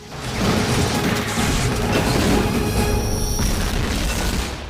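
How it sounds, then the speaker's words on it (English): A loud, sustained explosion roars from a Buffy the Vampire Slayer episode, a dense booming rumble filling several seconds before tapering off. "That's gonna explode, bud."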